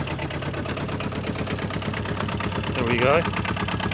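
A replacement engine in an Aixam Mega Multitruck van idles with a steady, rhythmic low chug, briefly swelling near the end, while someone speaks over it.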